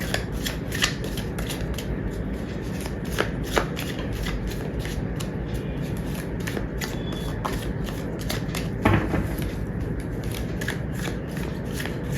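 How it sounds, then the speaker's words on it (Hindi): Tarot cards being shuffled by hand, a steady series of crisp riffling flutters and soft taps repeating at close range, with no talk. "जब तक मैं कार्ड शफल कर रही हूँ"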